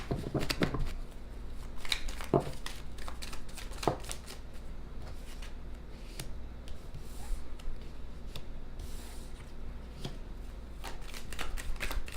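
Tarot cards are shuffled continuously for several seconds, a dense papery riffling and flicking with occasional sharper snaps, close and fairly loud, no voices.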